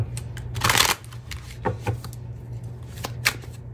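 A Celestial Cosmos Tarot deck being shuffled by hand, short papery riffles and soft card slaps in quick bursts, close and fairly quiet, no talking.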